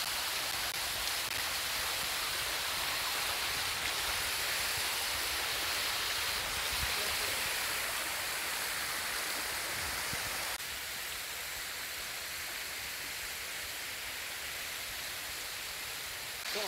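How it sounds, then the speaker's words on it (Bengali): A waterfall behind a temple at Srisailam makes a continuous, even rush of falling water, fairly soft and unbroken throughout, with no voices. "ভালো লাগছে বেশ ঝর্ণাটা দেখতে"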